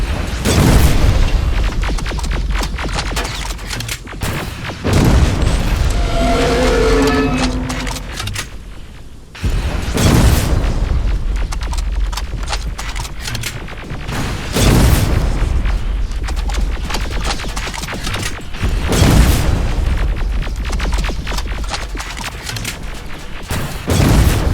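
A T-47 tank is destroyed in the Terminator: Resistance video game by a series of loud, deep explosions that repeat roughly every five seconds. Rumbling battle noise fills the gaps between the blasts.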